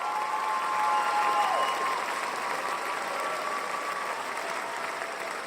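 Audience applause at a hall of fame gala, a steady dense wash of clapping from a large crowd that swells briefly and then holds evenly, with a faint voice or tone underneath.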